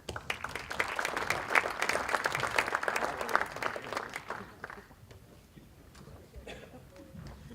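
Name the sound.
audience applause for the conference panel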